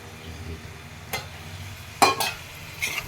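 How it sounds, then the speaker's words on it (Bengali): Carrot and onion frying in white oil in a pan, a low, steady sizzle under a few clinks and scrapes of a utensil stirring, with no voices. "সাদা তেলের মধ্যে গাজর আর পেঁয়াজ ভাজতে দিয়েছ"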